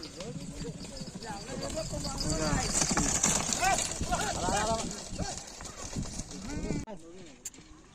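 Rapid clopping hoofbeats of a running bull beneath loud, excited shouting from a crowd, continuous until a sudden drop near the end.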